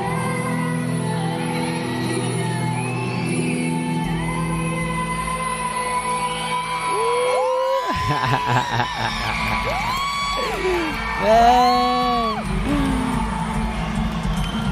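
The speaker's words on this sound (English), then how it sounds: "Ayaw tumigil ng crowd" A large crowd at Araneta Coliseum cheers, shouts and whoops loudly during a live singing performance, with rising and falling whoops swelling in the second half and someone speaking briefly over the roar.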